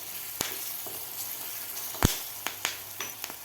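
Curry leaves and crushed chili thecha sauté in hot oil for batata vada, a steady close sizzle broken by a few sharp crackles and spoon taps.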